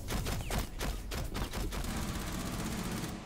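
A P10 Roni fires in a video game as rapid bursts of automatic gunfire, loud and close, then thins into fainter trailing shots.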